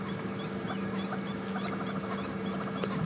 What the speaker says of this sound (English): You just heard birds calling